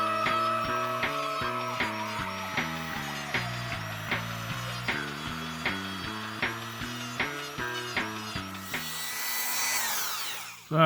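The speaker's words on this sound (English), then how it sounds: "always to wear safety glasses when you're using a Dremel tool" Dremel rotary tool grinding a plastic action figure, a whining motor with regular rising and falling pitch as the bit touches the plastic, near and continuous without speech.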